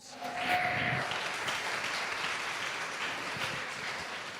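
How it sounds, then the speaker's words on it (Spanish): A church congregation applauds steadily during a sermon, a fairly distant, even wash of many hands clapping that rises quickly and stays constant before easing slightly. "denle un aplauso fuerte a Dios"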